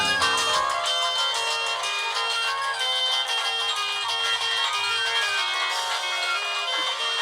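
A phone rings in an office scene of a Bengali comedy film, playing a full musical ringtone that stays loud and continuous for about seven seconds, with no one speaking.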